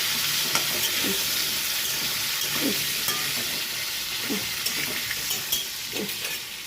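Potatoes fry in a little oil in a pan for a prawn and pointed gourd dish, giving a steady close sizzle with periodic scraping strokes of a spatula and no voices.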